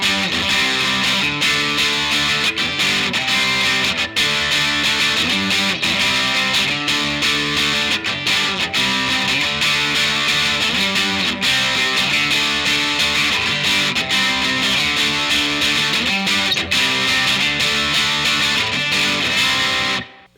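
Distorted electric guitar plays the verse chords of a song slowly, giving a dense, loud, continuous wash of chords with steady rhythmic changes and no talking.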